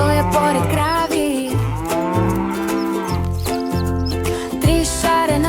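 A cow moos loudly and repeatedly over the music of a bouncy children's song, the lowing calls stretched and tuneful, with no one speaking.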